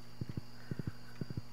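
Horse hooves clip-clop in the Stardew Valley video game, in three evenly spaced groups of three quick, soft beats over a faint steady hum.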